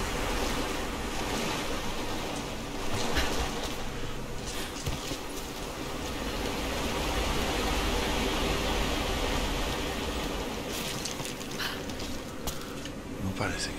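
Waves and sloshing water surge and splash in Rise of the Tomb Raider, a continuous roar of surf with wind and occasional sharper splashes, while someone talks over it.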